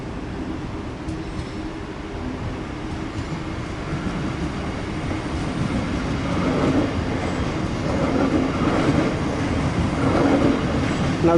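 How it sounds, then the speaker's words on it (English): A commuter train rolls into a station near Blackfriars in the City of London, a steady rumble with rail clatter and faint wheel squeal that builds gradually as it nears. "There's a train just rolling in there."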